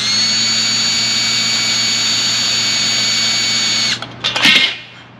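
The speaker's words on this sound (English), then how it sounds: "And I'll drill the first one." A power drill whines steadily at high pitch for several seconds, then stops abruptly, followed by a few short scraping and rattling sounds.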